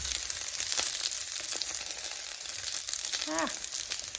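Zucchini fries in a pan with a steady, close, bright sizzle and crackle throughout, and a short vocal sound rises briefly near the end.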